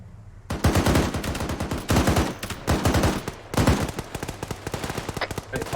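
Machine gun fire in the video game Arma 3 comes in several loud sustained bursts, separated by short gaps, each burst a rapid rattle of close shots.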